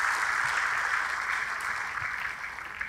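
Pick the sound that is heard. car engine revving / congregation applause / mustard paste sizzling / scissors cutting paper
congregation applause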